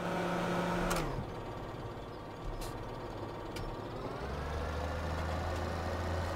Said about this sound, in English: Nice, clean John Deere and tractor.